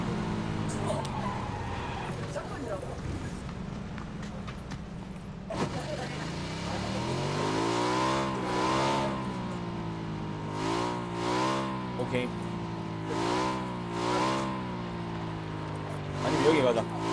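A motorcycle engine in the PUBG battle royale game revs and drones in rising and falling waves as it rides along, with players talking over it throughout.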